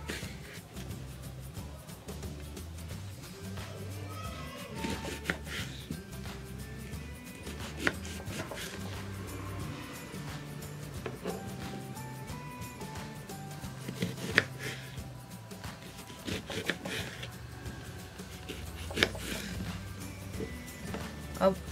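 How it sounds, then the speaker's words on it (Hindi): Guavas being cut with a knife on a board, faint repeated soft chopping taps and scraping spread steadily throughout, quiet and close beneath a low background hum. "अब सारे अमरूद को इस तरह से काट लें।"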